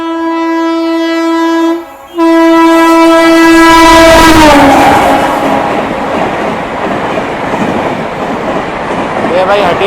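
Swarna Jayanti Express passenger train passing near Ranchi, a loud sustained horn blast briefly broken then resumed, followed by the heavy rushing roar and clatter of carriages going by up close.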